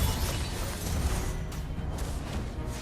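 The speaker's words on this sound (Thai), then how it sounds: "แล้วก็ป้อมระเบิดไปก่อนครับ" A defense tower explodes in the Mobile Legends mobile game, a dense, sustained crashing and shattering roar that stays loud and fills the whole clip with no pause.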